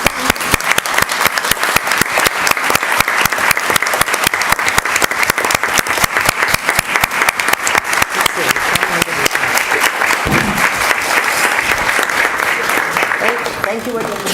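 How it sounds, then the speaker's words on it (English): An audience at an Ann Arbor City Council meeting applauds the standing awardees with dense, sustained clapping that carries steadily at full volume for the whole stretch. "I guess we should ask all of the awardees to stand and we can applaud."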